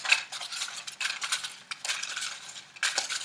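Paper name slips being stirred around in a container, a close, bright rustling and clinking in uneven bursts with brief pauses, no voices.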